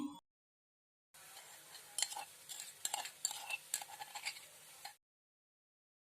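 Crushed ginger and three cloves of garlic fry in a pan with a moderate crackling sizzle, spiked by irregular clicks and scrapes of stirring, lasting a few seconds between brief silences.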